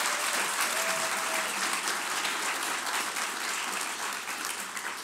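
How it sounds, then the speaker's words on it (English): Sustained audience applause for musicians at an Irish-language week celebration, dense and steady throughout, close and loud with no pauses. "Give the musicians and Seamus another round of applause."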